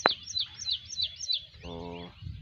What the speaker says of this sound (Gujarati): આપણે આજે ચકલા ઉડાડવા બાજરામાં સવારમાં આવી ગયા છે